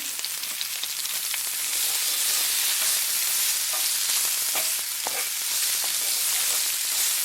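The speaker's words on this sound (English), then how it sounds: "immediately you get that wonderful aroma from the sauteing onion" Sliced carrots and onion sauteing in a hot pan for a stir-fry of cabbage, apple and ham, giving a steady close sizzle broken by occasional scrapes and stirring clicks.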